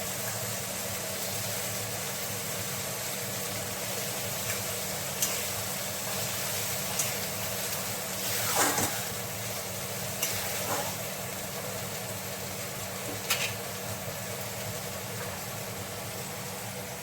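Fish frying in hot oil in a home kitchen: a steady, even sizzle fills the whole stretch, with a few soft clinks and stirring sounds on top, close and moderately loud, with no talking.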